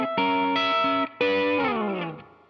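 Electric guitar plays a short blues lick through effects pedals with distortion and chorus, two phrases of sustained bending notes that ring out and fade, alone with no talk.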